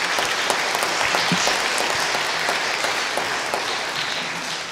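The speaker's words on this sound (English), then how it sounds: "let's give a round of applause to the people who have sponsored each of our performers today." An audience at a charity music concert claps steadily and warmly, a dense, sustained round of applause that fades slightly toward the end.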